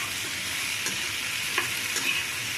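Pumpkin curry sizzles in a pan as it is stirred, a steady close crackle with a few soft scraping strokes of the spoon breaking through.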